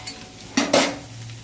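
A spatula scrapes and stirs chutney on a hot griddle over a low gas flame, giving two quick close scrapes over a soft steady sizzle, with no one talking.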